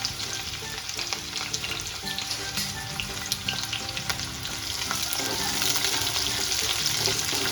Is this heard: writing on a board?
no